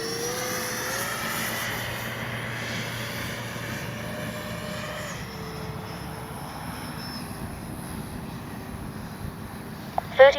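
FMS F-16 64mm electric ducted-fan RC jet making a landing pass, a steady whining turbine tone whose pitch shifts up and then down as it passes, moderately loud, with a brief sharp noise at the end.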